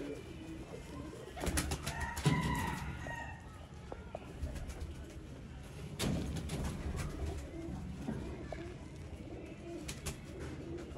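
Golden pigeons coo in soft, repeated low calls, some near and some farther off, amid a busy flock with occasional wing flutters and faint background noise.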